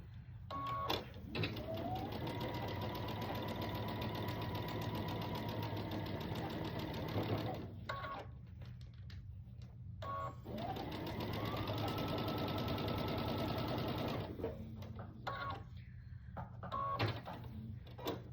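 A sewing machine stitching rows of a quilt block runs in two long bursts of steady motor whir and rapid needle clatter, each revving up and then stopping, separated by a short quiet pause.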